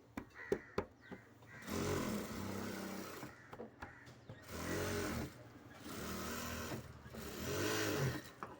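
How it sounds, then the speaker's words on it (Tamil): A tailor's sewing machine running in repeated short bursts, a whirring mechanical chatter stopping and starting several times, with small clicks and handling noises between runs. "இந்த அங்கிள் தைக்கிற மாதிரியே தெரியுங்க"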